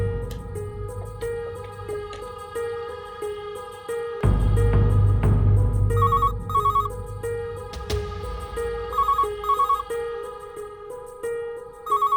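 A telephone rings in a room with a repeated electronic ringtone pattern, loud and close, joined partway by a burst of broadband noise and then more ringing bursts.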